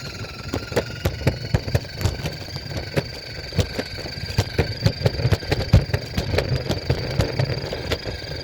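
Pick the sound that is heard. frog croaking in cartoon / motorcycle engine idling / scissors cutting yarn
motorcycle engine idling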